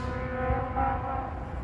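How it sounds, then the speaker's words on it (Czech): Diesel locomotive of the Bardotka class, heard at a Bardotka meeting in Lužná u Rakovníka, gives a steady, fairly faint tonal engine drone with a low rumble for under two seconds. "Existuje lepší zvuk motoru než je Bardotka?"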